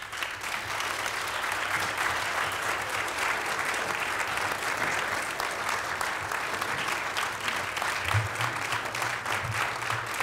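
Audience applause at a Linden city council reorganization meeting, a dense, sustained round of clapping from a room of people filling the whole stretch at steady loudness.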